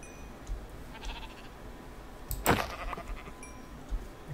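A sheep bleats once in Minecraft, a single short digitized cry near the middle over quiet game ambience with a few faint clicks.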